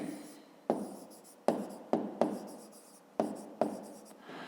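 Pen or chalk writing by hand during a fifth-grade maths exercise, with a series of sharp taps followed by scratchy strokes that fade, repeating about six times alone and close up.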